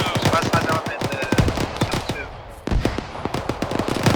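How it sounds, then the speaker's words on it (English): Rapid machine-gun bursts and scattered rifle shots in ArmA 3 combat, loud, dense volleys that pause briefly before resuming, with radio chatter mixed in. "There's incoming fire from the northwest."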